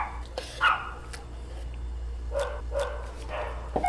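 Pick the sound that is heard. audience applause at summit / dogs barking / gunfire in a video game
dogs barking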